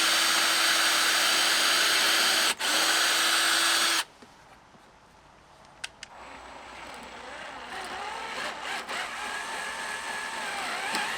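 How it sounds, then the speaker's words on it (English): A power drill whines loudly and steadily for about four seconds, drilling a hole to mount a step on a Four Wheel Camper, then stops abruptly, leaving quieter workshop noise and small knocks. "then we'll get the first hole drilled"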